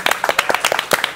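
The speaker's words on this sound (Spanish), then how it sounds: "Un aplauso, por favor." A studio audience breaks into quick, loud applause, a short burst of sharp overlapping claps heard close.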